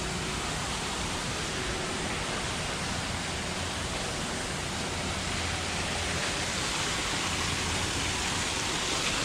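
A waterfall in Shinjuku Gyoen garden in Tokyo pours as a steady, broad rushing hiss, even and unbroken for the whole stretch, with no voices.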